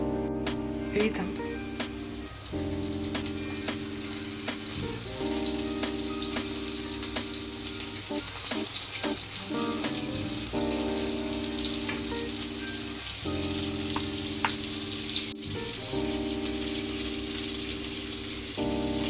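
Bombay duck (bombil) fish coated in fine semolina frying in oil, a continuous crackling sizzle with bursts of spattering, joined by humming tonal background and a brief knock.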